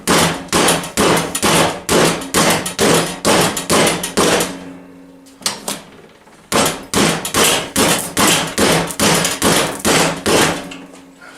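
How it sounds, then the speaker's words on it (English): Repeated loud metallic whacks in steady bursts, a rubber hammer pounding a rusty wheel on a 2006 Husqvarna YTH2242T lawn tractor, with a brief pause midway before the rhythmic hitting resumes. "I'm just taking my rubber hammer here"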